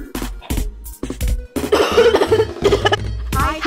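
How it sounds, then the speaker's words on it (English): Several harsh, close coughs come in quick bursts, breaking up and then running together into a longer rough coughing fit near the end. "I have a cough."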